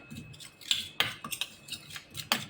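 A spoon scrapes and clinks against a bowl while mixing spice powder such as black salt and red chilli, a run of light, uneven metallic taps and scrapes heard up close with no talking.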